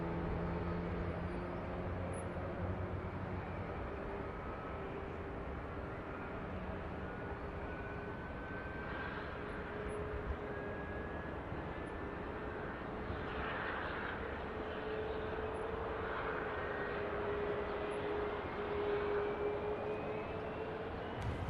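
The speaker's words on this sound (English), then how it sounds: "Off goes the TUI Dreamliner." A TUI Boeing Dreamliner takes off from Manchester Airport, a steady broad jet roar with a slowly rising engine whine that holds at a distance throughout, with no talking.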